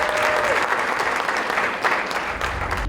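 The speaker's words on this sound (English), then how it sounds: "A huge round of applause. Bigger, bigger, bigger." Steady applause rises from an audience at an education solutions showcase for speaker Craig, a continuous crowd clapping at moderate level, with faint voices mixed in.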